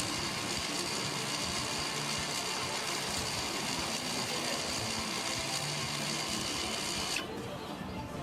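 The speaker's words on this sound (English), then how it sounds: "The EPB module will close up the parking brake mechanism." The electro-mechanical parking brake motor on the rear brakes closes the mechanism after being triggered by a diagnostic tool. It gives a faint, steady mechanical whir that runs continuously, then shifts slightly as it finishes near the end.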